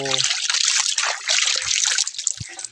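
Water trickles and splashes continuously nearby, a steady bright rushing with small gurgles throughout.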